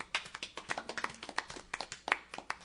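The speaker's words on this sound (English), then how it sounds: "Yeah, we can clap for him, Bob." Scattered handclaps from a small audience at a Millville city commission meeting: a short, uneven patter of sharp claps, close and clear, with no talking.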